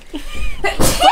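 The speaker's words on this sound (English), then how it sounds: "Oh, I have to sneeze." A single person's sneeze, a short breathy intake followed by a sharp burst, close and loud, lasting about a second.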